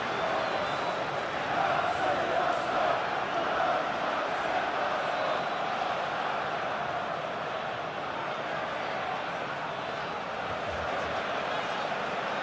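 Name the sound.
football crowd chanting in a Premier League video game simulation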